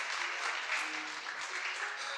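A conference audience claps steadily for a speaker at a blockchain developer event, a dense, even wash of applause with no pauses, filling the whole moment at moderate loudness.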